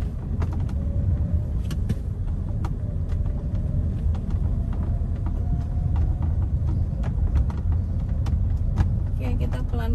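Manual car pulling away in second gear, a low steady engine rumble with faint clicks and rattles inside the cabin while someone talks over it.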